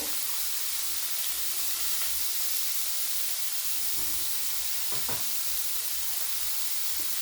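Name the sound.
broccoli frying in a pan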